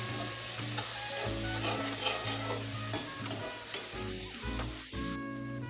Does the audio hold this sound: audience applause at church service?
no